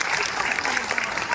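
Audience at a Haribhumi kavi sammelan poetry gathering in a girls' college hall in Sonipat applauds police officers, a dense, steady wash of many hands clapping together throughout, with a murmur of voices underneath.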